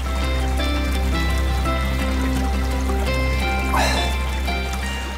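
Water trickles from a sacred spring beside the Koshkarata river, a steady dribbling and splashing over a low background hum, with a brief brighter splash partway through.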